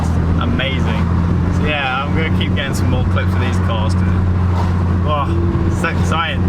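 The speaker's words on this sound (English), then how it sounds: "This GTR in front of us sounds amazing." A Nissan GT-R cruising ahead at a car cruise gives off a steady, low engine drone that runs the whole way through, with people talking over it.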